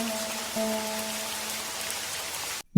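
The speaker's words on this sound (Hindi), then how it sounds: "आज तो बारिश ने जम के कहर ढाया है।" Heavy rain pours steadily onto surfaces outside in a monsoon downpour, forming a constant hiss with a low background hum, then cuts off abruptly near the end.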